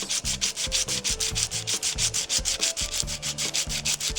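Sandpaper rubs back and forth on a guitar part, a close, rhythmic scratching in quick regular strokes, about five per second, with no voices.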